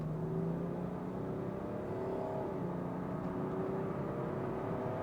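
A car accelerates hard on a test drive, its engine note rising steadily as a droning, strained hum heard from inside the cabin, with no talking.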